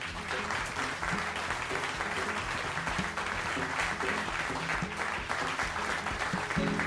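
Steady audience applause filling the room after a French-language broadcast panel discussion, a dense continuous patter of clapping hands with no talk over it.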